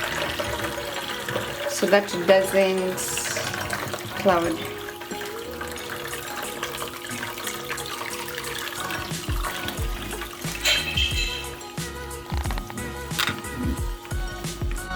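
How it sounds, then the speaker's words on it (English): Cold tap water runs and splashes over freshly cooked spaghetti in a home kitchen, a steady close rushing pour with clatters of the pot and a person talking over it. "Then you pour just cold water on it"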